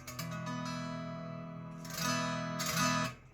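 Lap steel guitar tuned by ear to open E, its plucked strings ringing as a sustained open chord, close and clear, with a couple of fresh bright strums that swell and decay.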